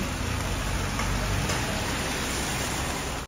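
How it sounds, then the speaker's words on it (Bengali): Heavy rain pours down in a dense, steady roar, unbroken for a few seconds before cutting off abruptly. "ভালো বৃষ্টি হচ্ছে"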